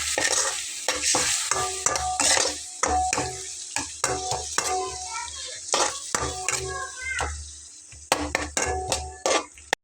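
Food fries in a pan as soy sauce goes in, with a steady sizzle broken by repeated clinks and scrapes of a utensil stirring against the pan, no voices.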